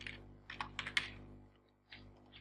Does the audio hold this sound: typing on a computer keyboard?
yes